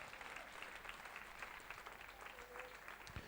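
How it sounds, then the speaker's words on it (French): Church congregation applauding, a steady wash of many hands clapping heard faintly and at a distance for a few seconds. "Applaudissez le Seigneur Jésus"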